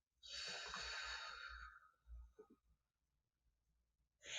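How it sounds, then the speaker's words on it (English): Deep diaphragmatic belly breathing: one long, loud, airy exhale lasting over a second, followed by a few soft breath noises and a fresh intake of air at the end. "that deep belly breathing is going to have the maximum positive impact. So again, inhale, exhale."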